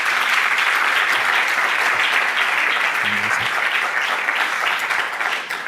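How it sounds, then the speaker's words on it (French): An indoor audience at a conference talk on building renovation and construction claps steadily for several seconds, a dense, loud, continuous wash of applause with a few faint voices beneath. "Si vous voulez bien applaudir nos 3 intervenants"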